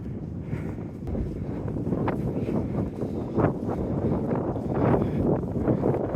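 Strong wind buffets the microphone in a continuous low roar, gusting louder at moments, with no voices.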